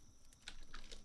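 Quick, light key clicks from a fancy gamer keyboard, a few soft taps at first, then a denser burst of keystrokes in the second half, close and fairly faint with no voices.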